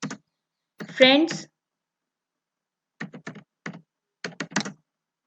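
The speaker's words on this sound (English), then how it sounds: "Now I will give the input using keyboard that I am going to type here" Computer keyboard typing for input in a Scratch programming lesson, heard as short bursts of close key clicks between brief spoken words.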